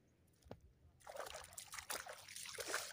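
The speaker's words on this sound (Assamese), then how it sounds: "আলি ভাঙি একদম পানী গৈ আছে এইফালে" Water flowing through a broken earthen ridge in a paddy field, a faint trickling that starts after a brief click and continues steadily for a couple of seconds outdoors, with no talk.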